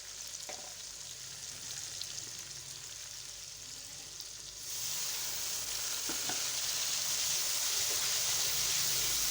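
Onions and tomatoes frying with salt, chili and turmeric, a steady close sizzle that grows suddenly louder and brighter midway and then holds, with a few faint stirring taps and no talking.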